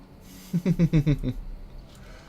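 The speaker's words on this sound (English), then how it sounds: "You're a war dog, not a nursemaid." A war dog in Dragon Age: Origins gives a short run of five rhythmic, snuffling whimpers, close and fairly loud, then fades back into quiet game ambience.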